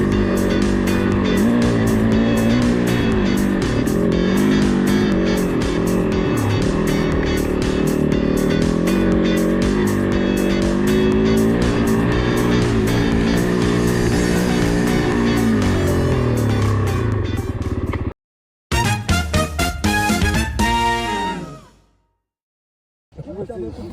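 An off-road trail motorcycle revs hard and continuously as it powers up a hill climb, loud and close, then cuts out briefly and returns in short bursts before going quiet.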